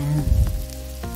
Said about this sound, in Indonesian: Kemudian tumis hingga cabai dan tomatnya sedikit agak layu.